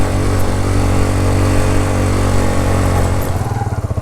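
A motorcycle labours up a steep mountain road toward Noori Top in Azad Kashmir, held in first gear: a loud, steady, close engine drone that turns into a rhythmic pulsing chug near the end.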